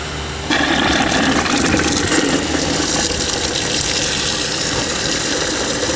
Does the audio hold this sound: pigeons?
no